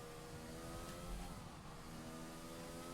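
A racing car engine in a video game, on the Suzuka circuit, revs hard with a steady high-pitched buzz holding under acceleration, alone and fairly loud throughout.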